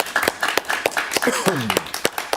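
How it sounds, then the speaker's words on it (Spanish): A studio audience claps for an arriving guest at a televised interview, sharp irregular hand claps ringing out close and loud, mixed with a voice speaking over them. "Un aplauso para él"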